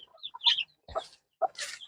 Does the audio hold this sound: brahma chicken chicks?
yes